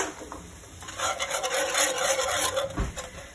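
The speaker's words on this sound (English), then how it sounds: "I'm gonna add some spices and I'm gonna whisk that up." A whisk scrapes and rubs rhythmically in a pan as spices are mixed into sausage gravy, a brisk close scratching that builds in the middle, with no one talking.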